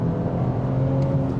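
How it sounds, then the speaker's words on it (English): A 2024 BMW X5 xDrive40i luxury SUV accelerates at full throttle from a standstill, heard from inside as a steady, droning engine hum with a low tone that slowly climbs under a hiss of road noise, with no talking. "Let's just try flooring it this time without brake torquing and see if there's a difference."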